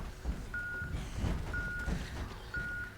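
A truck reverses in the Project Zomboid video game, its backup alarm sounding three steady, evenly spaced beeps over a low rumbling engine, moderately loud and with no voices.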